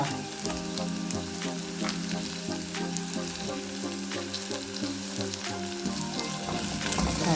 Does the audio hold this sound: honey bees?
no